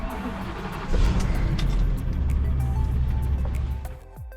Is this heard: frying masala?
no